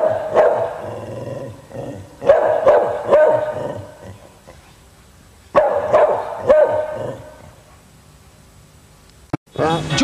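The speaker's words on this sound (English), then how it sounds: "Dog TV, where our dog talks to your dog." A dog barks in several close, loud bursts of two or three yaps with pauses between them, and a voice is briefly heard.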